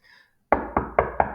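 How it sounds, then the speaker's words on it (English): Four sharp knocks on a door, evenly spaced and close, each ringing briefly before the next, following a moment of quiet. "Knock, knock, knock."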